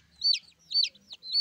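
A white chicken clucks loudly and noisily, three sharp, rising squawks at an even pace, close by with quiet between them.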